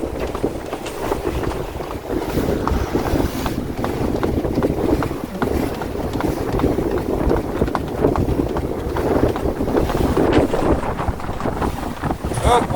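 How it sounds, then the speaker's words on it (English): Wind buffets a single-handed sailboat with no engine running, moving through short, choppy one-to-two-foot waves where the current runs against the wind. Constant gusty roar and irregular water slaps continue throughout, loud and close, with no talking. "There's a lot of current against the wind here, which is why it's so choppy."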